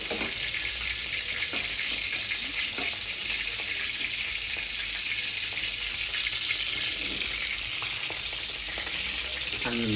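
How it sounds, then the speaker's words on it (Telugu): Onions hit hot oil in a pan for a chicken fry, producing a loud, dense, continuous sizzle and crackle that holds steady from start to finish without any talking. "అండ్ ఇప్పుడు మనం ఆనియన్ అయితే వేసేద్దాం."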